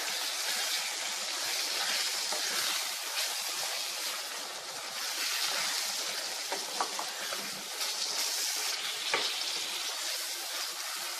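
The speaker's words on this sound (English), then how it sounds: "So now we'll quickly add the juicy tomatoes, fresh tomatoes to the stew. And then we stir it." Fresh tomatoes are stirred into a simmering egg stew, giving a continuous bright, hissing sizzle at close range, with soft scraping stir sounds scattered throughout and no speech.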